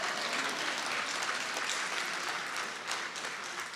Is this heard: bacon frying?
no